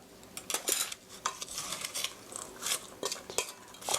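A utensil scrapes and clinks against a bowl while tomato pancake batter is mixed, with irregular close-up taps and swishes in uneven bursts.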